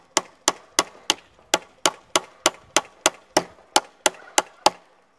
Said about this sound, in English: we're just going to go ahead and start nailing this fence, or stapling the fence, to the corner of this post